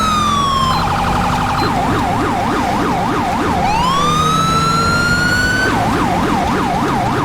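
A police car siren from GTA5 with the LSPDFR mod, on a Chevy Caprice styled after the Illinois State Police, wails loud and close. It alternates between rapid yelping cycles and long rising sweeps.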